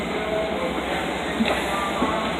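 A Long Island Rail Road train bound for Babylon rumbles past in a steady, loud roar with faint wheel squeals and rattles, heard from a station platform or a nearby carriage.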